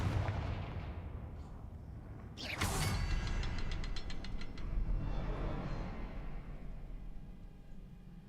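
Confringo fire spell blast in the game Hogwarts Legacy, a sudden bright burst followed by a rapid rattling crackle that fades out over a couple of seconds against a low rumbling background.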